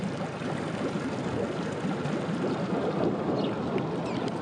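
A Princess 32 boat converted to outboard power drones steadily, a low rumbling hum mixed with wind and water noise, continuous throughout.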